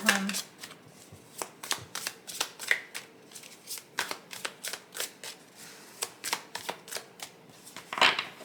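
A deck of tarot cards being handled and cut during a reading, a series of soft crisp flicks and slaps in an uneven rhythm, close, with a voice talking faintly underneath.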